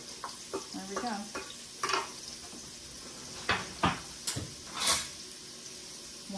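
Celery and onions sauté in a pot of Italian meatball soup, a soft sizzle under repeated scraping and clinking strokes of a spoon stirring, close and moderately loud.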